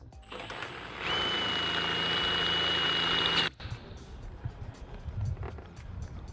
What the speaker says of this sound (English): We have drilled through the head.